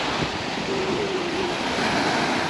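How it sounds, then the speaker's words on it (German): Waves breaking and washing continuously on the Sea of Marmara shore, a steady close roar of surf with wind noise and no voices. "So, das ist das Marmara-Meer."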